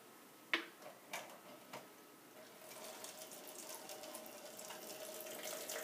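Water poured into a hanging water bottle planter trickles and splashes steadily after a few sharp clicks and taps, close by and gradually growing a little louder.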